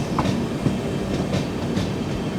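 Poorna Express rolling on rails, heard from inside an AC 3-tier coach: a steady, loud rumble with a faint rhythmic clatter of wheels over rail joints, no voices.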